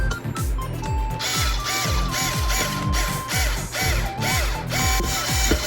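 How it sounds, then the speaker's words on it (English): A cordless screwdriver in forward drives screws into a garden glass flower, its motor whining in short, repeated spurts with a rhythmic mechanical chatter, close and fairly loud. "I'm going to take my cordless screwdriver, make sure that it's in the forward position"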